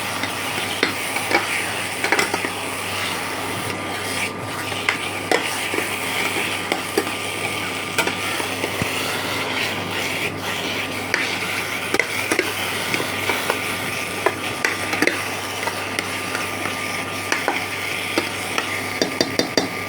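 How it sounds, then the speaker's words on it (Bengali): Chopped ginger sizzling in hot oil in a pan as a vegetable paneer cutlet filling is prepared, with a spatula stirring and scraping in steady irregular strokes over a continuous frying hiss. "দেখুন একটু 2-3 মিনিট ভাজা হয়ে গেছে, আদার যেই ঝাঁঝ ভাবটা ওটা কমে গেছে"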